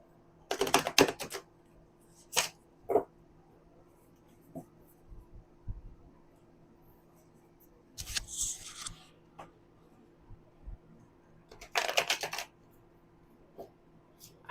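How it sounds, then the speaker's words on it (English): Tarot cards shuffled by hand in a quiet room, a few brief riffling bursts and soft flicks separated by pauses, close and alone. "I know how to shuffle cards, I swear."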